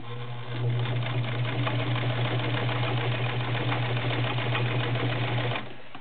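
A Kenmore model 1318 sewing machine drives a size 16 needle through five folded layers of denim, a steady close motor whir with fast rhythmic stitching clatter that starts, runs for several seconds, then stops.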